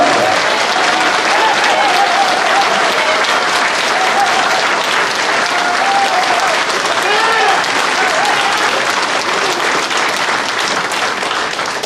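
A large audience at a forum applauds a speaker being introduced, loud continuous clapping close by, with a voice talking over it.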